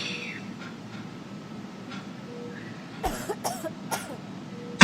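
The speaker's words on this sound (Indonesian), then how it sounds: "Aku mendengar suara batuk yang sangat gaduh." Several loud, harsh coughs burst out in quick succession near the end, following a stretch of quiet room hiss in a hospital isolation ward at night.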